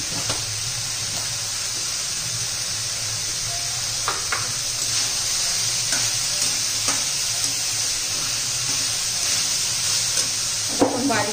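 Green beans (farasbi) sautéing in a pan for a spicy Maharashtrian dish give a steady, close sizzle throughout, with occasional scraping clicks and stirring taps from a utensil and no talking.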